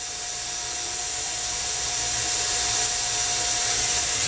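A drill bit bores a hole in thin wood during a model airplane build, giving a steady high whine that rises slightly in pitch and loudness, heard alone without talk.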